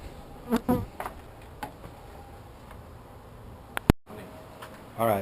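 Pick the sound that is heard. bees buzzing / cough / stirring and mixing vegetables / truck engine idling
bees buzzing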